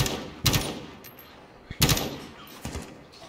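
Gunfire exchange in Call of Duty Warzone: three sharp, loud bursts of shots spaced about a second apart, each trailing off quickly, with no talking.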